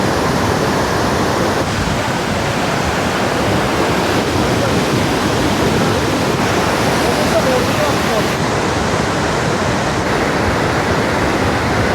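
A swollen, muddy Madhuganga river after heavy rain roars in a loud, steady, unbroken rush close by, with stones knocking together somewhere inside the churning flow.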